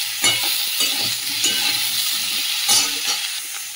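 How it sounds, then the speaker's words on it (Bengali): Cauliflower and potato pieces fry with salt and turmeric in hot oil in a kadai, giving a loud, close crackling sizzle broken by repeated clattering stirs. "একটু ভালো করে কপি আর আলুটা ভেজে নেবো নুন হলুদটা দিয়ে"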